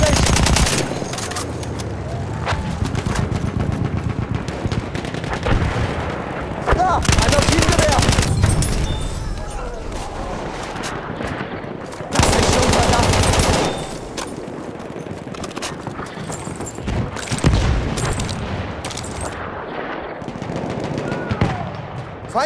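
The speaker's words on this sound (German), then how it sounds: "Feindliches Maschinengewehr." Rapid machine gun fire rattles through a Battlefield 1 Conquest battle, loud sustained bursts layered over explosions and constant combat din, with game voices calling out amid the chaos.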